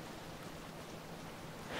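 Rain pours in the video game Lord of the Rings: War in the North, a brief, dense, even hiss of downpour with a low rumble underneath, steady throughout and without voices.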